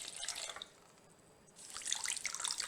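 Water poured from a container into two bowls for pizza dough, two close splashing pours separated by a brief pause, loud and alone.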